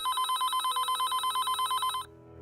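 A telephone rings with a rapid electronic trill, repeating in short regular bursts for about two seconds, clear and fairly near, then stops, leaving faint background noise.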